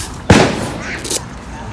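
A single sharp gunshot-like bang cracks out nearby near a vineyard with trams, a loud short blast followed by a fainter second thump and background noise.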